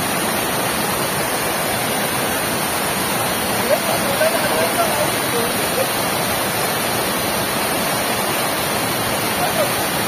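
A small waterfall in the rainy Konkan countryside roars as a loud, steady wash of falling water, close by and continuous, with faint talk under the rush.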